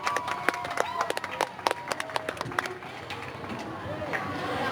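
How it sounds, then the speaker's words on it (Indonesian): Applause from a school audience at a student council (OSIS and MPK) candidate debate: scattered, uneven claps over a few seconds with crowd murmur and chatter underneath. "Kasih tepuk tangan yang meriah semuanya."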